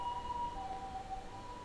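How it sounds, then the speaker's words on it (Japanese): An ambulance siren wails outside on a Tokyo street, a faint, wavering tone carried over a steady low rumble of traffic throughout. "救急車ちょっと気になっちゃって。"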